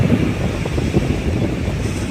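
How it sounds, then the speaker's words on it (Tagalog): Strong surf driven by a typhoon at high tide along Manila Bay, a dense, steady roar of churning water mixed with wind buffeting the microphone, loud and continuous throughout. "Lakas ng alon. High tide."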